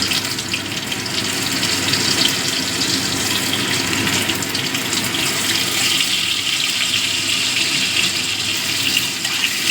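Cut potatoes frying in oil tempered with whole spices, cooked for a vegetarian spinach-stem dish. There is a loud, dense, continuous hiss and sizzle close up, steady throughout with no talking.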